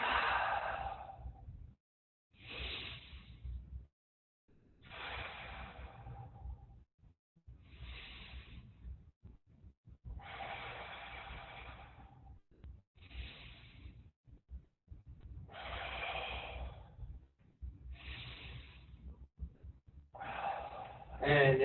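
Deep, slow breathing paced through a lunge exercise in an adult karate class, about nine long breaths at a steady rhythm, each a soft rushing whoosh separated by brief silences.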